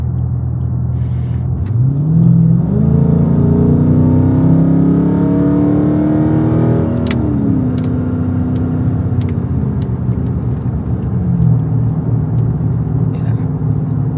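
A Dodge Scat Pack accelerating hard on a public road, heard from inside: a loud, continuous engine roar rising steadily in pitch through the revs, easing off, then settling into a lower steady drone.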